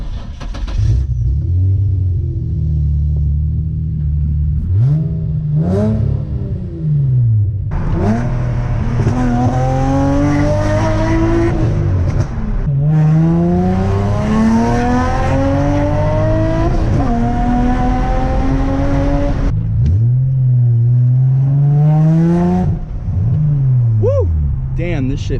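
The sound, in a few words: car driving and accelerating on a test drive, Infiniti G35 or Nissan 350Z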